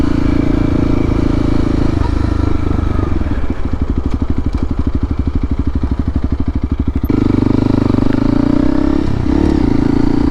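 A Honda CRF300L dirt bike with an aftermarket exhaust, baffle installed, idles loudly up close, then is revved into a rapid, pulsing, rattling burst lasting several seconds before dropping back to a steady idle.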